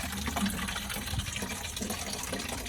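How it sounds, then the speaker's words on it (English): Water gushes from the spigot of a 55-gallon rain barrel fed by a shed roof, a continuous splashing flow at close range with no talking. "But this is the water coming out."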